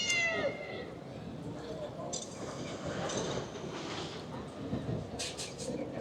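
A cat meows several times in quick succession at the start, coming from a famous advertising billboard in Tokyo, set against steady city street and traffic noise.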